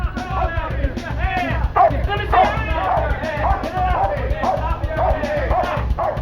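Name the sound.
police dog barking during arrest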